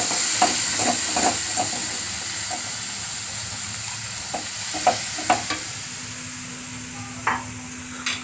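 Butter paneer masala sizzling in a pan as warm water is poured in and stirred, with a steady fry hiss and repeated spoon scrapes and clicks, close and moderately loud.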